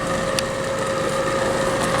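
A clean-burn exhaust fan runs steadily on a wood-fired stick burner smoker, giving a continuous close whirring hum with a constant tonal whine and faint crackles from the burning wood, no voices.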